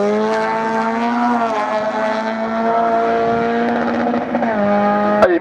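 A race car at a regional hill climb in Hébécrevon holds a loud, steady, high engine tone close by, the pitch dipping briefly at a gear change before a sharp crack near the end.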